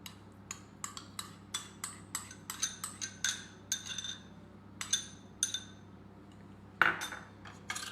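Spoon clinking and scraping against a bowl while yogurt is stirred smooth in a home kitchen, a steady run of light clinks about twice a second with one sharper knock near the end, close and fairly soft.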